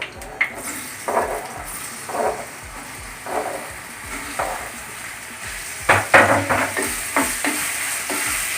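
Ripe banana fries in ghee in a thick pan, a low continuous sizzle with repeated soft scraping strokes of a spoon that quicken toward the end, close by and without speech.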